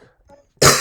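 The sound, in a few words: cough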